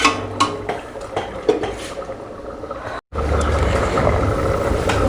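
A lid clatters onto a pot of fish curry simmering on the stove, with several metallic clinks, then a steady bubbling hiss of the cooking liquid close by.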